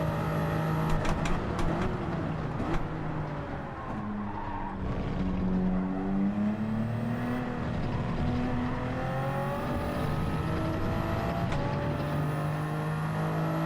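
A race car in Gran Turismo 7 screams through a corner, its engine pitch sweeping up and down with tires squealing and skidding, loud and close, while a driver talks faintly underneath.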